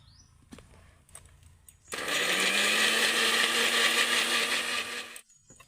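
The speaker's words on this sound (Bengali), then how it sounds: "এবার আমি ঢাকা দিয়ে মিক্সিতে ঘুরিয়ে নেব" A kitchen mixer grinder blending chutney with a little water, its motor starting abruptly into a loud, steady whirring roar that holds for a few seconds before cutting off cleanly.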